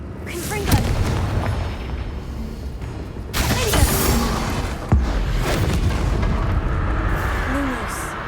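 Confringo blasting curse explosions from a Harry Potter video game set in haunted Hogsmeade, with several sharp booming bursts and crackling debris over a dense, noisy game soundscape; a spoken incantation is heard.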